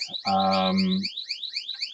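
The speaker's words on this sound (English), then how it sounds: "Sounds like a car alarm or some kind of alarm like that." Synthesized electronic beeping tone like a car alarm, a rapid warbling high pitch repeating steadily throughout, with a brief lower buzzing tone layered in early on.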